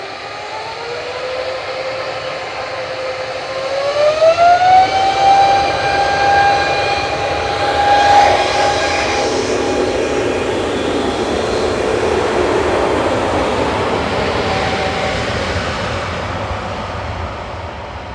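A plane's engines at Manchester Airport roar loud and close, a rising whine climbing in pitch and then holding as the aircraft powers past, with a broad rushing rumble that slowly fades.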